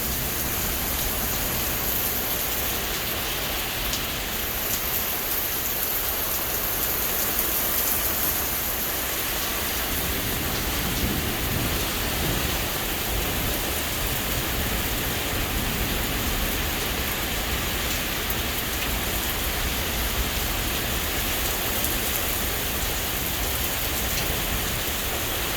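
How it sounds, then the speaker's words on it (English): Heavy rain pours steadily during a severe thunderstorm, a dense, even hiss of drops on surfaces that stays loud and unbroken throughout with no voices. "Wow, it's raining hard."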